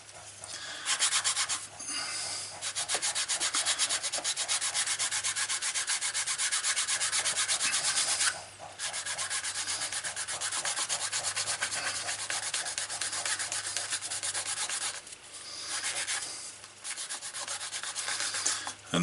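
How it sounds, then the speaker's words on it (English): Steady, brisk rubbing of a wet leather wallet edge being water-burnished, continuous scraping strokes that pause briefly twice before resuming, close up and fairly loud. "We're just going to water burnish this one."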